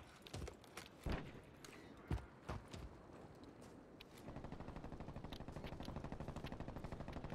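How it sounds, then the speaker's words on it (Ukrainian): Gunfire in the Call of Duty video game: several sharp separate shots early on, then a rapid, steady automatic burst for the last few seconds, fairly quiet overall. "З ними хтось стріляє."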